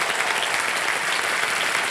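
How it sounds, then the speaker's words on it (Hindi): Steady, dense applause from a television quiz show studio audience, loud and continuous throughout with no pauses. "ताली बजती रहे"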